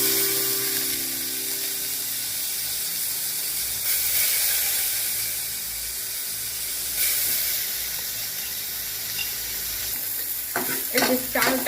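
Rice sizzles and hisses steadily as it is stirred in a little hot ghee in a bowl for Bengali nikutir payesh, with brief louder scraping bursts near the end and no talk.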